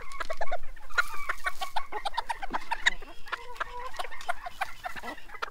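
Farm hens and a rooster, including a docile mosaic hen, cluck and call in a busy, close chorus of repeated short squawks and chatter that carries on steadily without pause.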